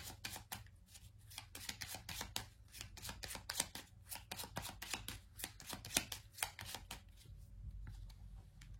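Tarot cards being handled and turned over, a steady run of crisp close-up snaps, flicks and paper slides at a quiet level, with no voices.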